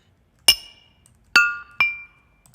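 Three bright glass clinks from a 'Cheers' one-shot in a Christmas VST plugin, spaced irregularly with ringing decays and near silence between them.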